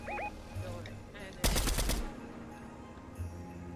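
Burst of rapid gunfire in a multiplayer shooter video game, a loud cluster of shots lasting about half a second amid quieter game ambience.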